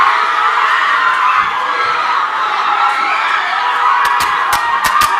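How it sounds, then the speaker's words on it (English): An expo crowd roars and cheers for Kampala International University at a media contest, a dense sustained wash of voices with a few sharp, close claps near the end. "put your hands up together for the one and only Kampala International University"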